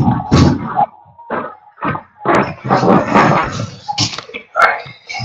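A dog playing with noisy toys in a nearby room gives loud, close bursts of whimpers, yips and grunting with scuffling noise between them.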